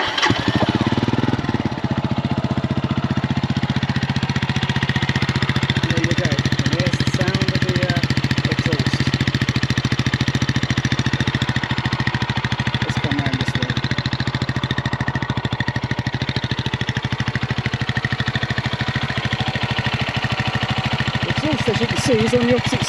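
A Mutt Akita 250cc motorcycle engine idles steadily and continuously, a close, even chugging throughout, with someone talking over it.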